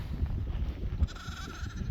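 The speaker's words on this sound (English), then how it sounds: "Got some pretty cool looking sheep out of the deal so far." A sheep bleats out on pasture during lambing, a short wavering call partway through, over steady low wind rumble and outdoor noise.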